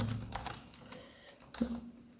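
Faint, sparse clicks of typing on a computer keyboard, a few scattered keystrokes over a quiet room background with no speech.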